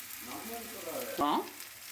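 Brief sizzling of adai dosa batter frying on a nonstick griddle after being flipped, soft and close, with a short louder burst near the end.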